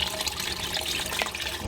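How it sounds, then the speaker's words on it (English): Gray water from a van's holding tank drains steadily through a dump hose, a continuous broadband rushing and gurgling of liquid with no talking. "first I'm gonna dump the gray water"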